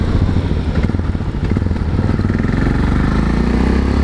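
A Yamaha Ténéré 660 motorcycle engine runs steadily nearby with a loud, rough, thumping idle throughout.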